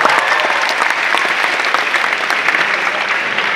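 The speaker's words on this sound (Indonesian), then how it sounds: "Tepuk tangan buat cewek berhijab" Audience applause at a live stand-up comedy show in Aceh, a dense steady burst of clapping from a crowd that carries through the whole moment without talk over it.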